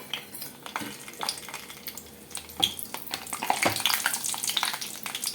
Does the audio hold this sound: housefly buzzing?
no